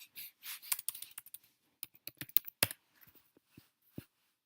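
Food macros being typed on a computer keyboard, with bursts of close, soft key clicks in an uneven rhythm and short pauses between runs.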